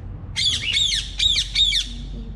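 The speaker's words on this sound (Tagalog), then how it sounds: "Lovebirds." Two lovebirds give four loud, harsh squawks in quick succession, close by, over a low background hum, with a faint chirp at the end.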